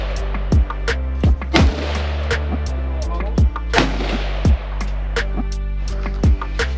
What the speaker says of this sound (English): You're going to see a whole bunch of B-rolls of us shooting these guns